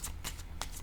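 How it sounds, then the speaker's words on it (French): A tarot-style card laid down during a reading, heard as a few soft, brief swishes and taps of card on a surface, close and quiet with no talk. "Je vais déposer une carte."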